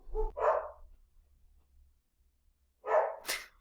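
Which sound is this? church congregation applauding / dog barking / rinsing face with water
dog barking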